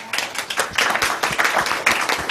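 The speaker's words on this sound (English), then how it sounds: "a round of applause to all of the rapporteurs" A conference audience claps for the rapporteurs at a wrap-up session, a brief burst of hand claps with uneven, scattered rhythm rather than a full roar, fairly close and moderately loud.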